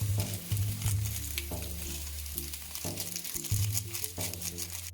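Loud, close sizzling of a vegetable mix frying in a pan, with bursts of stirring and scraping that come and go in an uneven rhythm.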